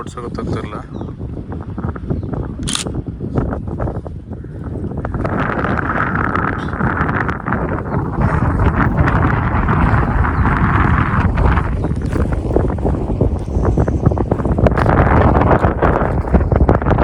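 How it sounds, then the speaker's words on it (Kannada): Strong wind sweeps across the Kabini backwaters near a boat, buffeting the microphone in a continuous loud roar that grows heavier partway through, with muffled voices faintly beneath. "ಗಾಳಿ ಭಾಳ ಐತಿ"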